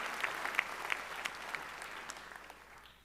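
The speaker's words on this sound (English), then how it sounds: "let's have another round of applause for Nick Sahoya in the role of Ted Ramey" An audience applauds at a comedy roast of Bruce Campbell with steady, fairly distant clapping that slowly fades, and a few louder claps stand out near the start.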